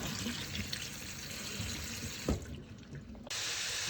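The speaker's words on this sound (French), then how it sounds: "on arrête tout de suite la cuisson en mettant sous un jet d'eau froide" Cold tap water running over cooked Brussels sprouts in a kitchen, a steady close gush of faucet flow with a brief splash partway through and no talking.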